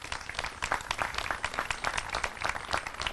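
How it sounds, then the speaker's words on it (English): An outdoor audience at the ribbon cutting ceremony for a school district agricultural project center claps, producing a dense, uneven patter of hand claps, moderately quiet and somewhat distant, lasting a few seconds. "So give yourselves a round of applause,"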